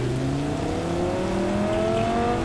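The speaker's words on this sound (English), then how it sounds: "I'm trying to do sick burnouts and skr here, sir." A car in the video game Cyberpunk revs hard during burnouts, its engine whine rising in steady pitch sweeps with a continuous loud drone and no pauses.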